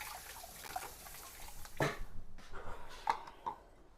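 An item being rinsed under running tap water while making ginger beer, with close splashing, dripping and a few sharp knocks against the sink, moderately quiet and uneven.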